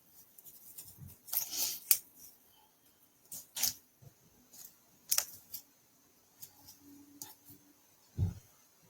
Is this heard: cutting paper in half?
yes